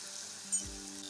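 Chili, ginger and garlic paste hits hot ghee tempering on low heat for masala khichdi, bursting into a sudden sizzle with a brief low thump, then settling into a steady hiss.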